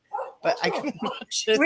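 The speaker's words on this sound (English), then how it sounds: "Sorry about my dog." A pet dog barks and yips in short bursts near the microphone while people keep talking over it.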